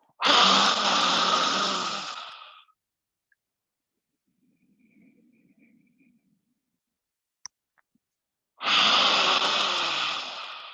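Two long, loud breaths bracket a yoga session for neck and shoulder pain, a forceful exhalation at the start and another near the end, with faint soft murmuring and a single click in the quiet gap between them.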